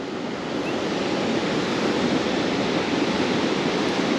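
A steady, loud rush of falling water roars without pause, filling the whole scene like a nearby waterfall.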